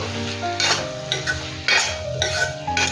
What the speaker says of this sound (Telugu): ఇప్పుడు అంతా బాగా మిక్స్ చేసేసుకుందాము